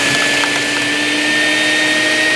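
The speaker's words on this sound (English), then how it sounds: "all you need is this attachment and you have a vacuum to suck out all the ash out of your Big Green Egg" A shop vacuum attachment roars steadily while sucking ash out of a Big Green Egg ceramic grill, a loud, constant close-up drone with a faint whine and no talk.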